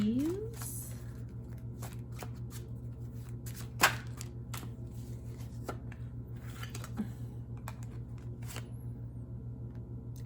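A deck of tarot cards is shuffled by hand close up, with quick riffling and soft slapping bursts spread irregularly over a low steady background hum.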